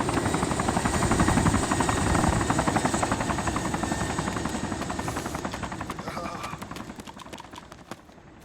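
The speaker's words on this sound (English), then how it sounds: "The helicopter eventually shows up, but when it touches down, it instantly goes back up and flies away." Helicopter in the Arma 2 combat game, a steady rotor chop thumping loud throughout and thinning toward the end as the aircraft lifts away, with other noise layered underneath.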